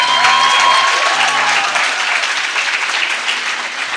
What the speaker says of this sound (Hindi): कोई ताली बजा देते हैं